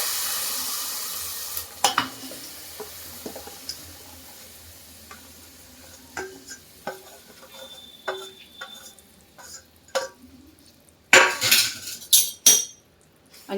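Chopped jaggery stirred with a spatula in hot ghee over low heat, a quiet background hiss broken by scattered scraping clicks and a louder burst of clattering strokes near the end.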